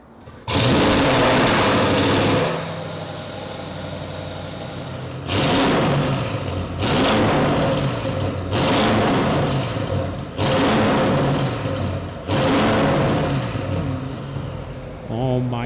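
A 2023 Audi RS6 Avant with new downpipes and almost no catalytic converters revs loudly in repeated bursts: one long rise, then four shorter blips about two seconds apart, each falling back to a rumbling idle.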